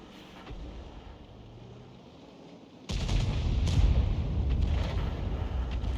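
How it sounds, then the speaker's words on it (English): Artillery round fired from a T92 HMC self-propelled howitzer in a tank video game, a loud low boom at about three seconds followed by sustained rumbling over a faint background hum. "Rounds out. Not sure if that hit or not because the shell went to one side."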